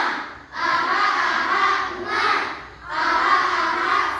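Three loud bursts of a classroom of children clapping and chanting the tepuk semangat rhythm in unison, each lasting about a second and a half with short gaps between.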